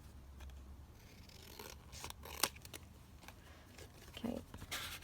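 Scissors snip through paper for a handmade journal folio, a few short close crisp cuts and rustles spread over a quiet background.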